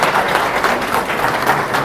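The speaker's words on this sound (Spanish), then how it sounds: "Josefina, un aplauso, pero ahora con ganas, por favor." A crowd applauding steadily, a dense wash of clapping hands that holds at an even level throughout without pause.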